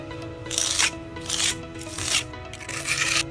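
A trowel smooths concrete repair material in repeated gritty, rasping strokes, four sweeps in a steady rhythm, close up.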